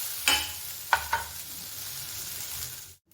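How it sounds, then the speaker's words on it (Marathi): Chopped onion sizzles as it is sautéed in a pan. A few sharp scrapes and stirs rise above the steady frying hiss before the sound cuts out, and no one talks. "आता हा कांदा चांगला असा परतून घेते"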